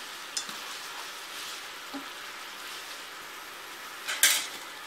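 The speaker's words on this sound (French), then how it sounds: "On va finir la cuisson des spaghettis." Spaghetti finishing cooking in a pan of creamy tomato sauce, a soft steady simmering sizzle with a few faint utensil taps and a louder clatter near the end, no voices.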